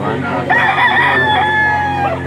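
A yearling gamecock crows loudly and close by at a poultry sale in Lipa, Batangas, one long drawn-out cock-a-doodle-doo over background chatter and other birds.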